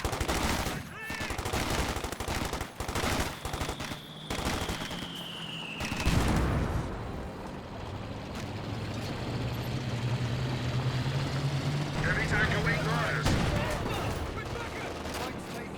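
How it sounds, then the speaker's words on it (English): Panzer Grenadiers firing in a Company of Heroes 2 battle, a dense run of sharp gunshot cracks and rattling bursts through the first seconds, then a quieter rumble of game noise with scattered shots. "Got the Panzer Grenadiers firing away."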